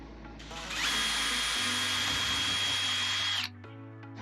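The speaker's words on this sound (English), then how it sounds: "So I'm gonna pre-drill all these holes just to make sure that my board doesn't crack." A power drill pre-drills holes into a wooden board, its motor whining up to a steady high pitch for a few seconds before spinning down, loud and close with no talk.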